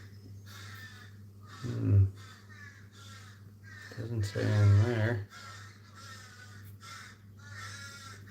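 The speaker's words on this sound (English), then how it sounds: "These freaking crows." Harsh crow caws repeat through the clip in a steady series, with a louder pair of calls in the middle; a constant low hum runs underneath.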